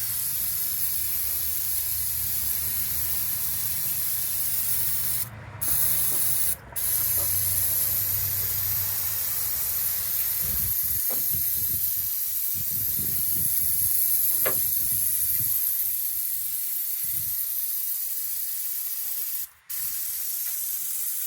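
A pressure washer sprays the engine bay of a 1977 Ford F150, giving a steady close hiss with brief pauses and shifting spatter as the stream moves across parts.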